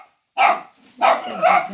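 Dachshunds barking at close range, three loud sharp barks in quick succession with short gaps, no talk over them.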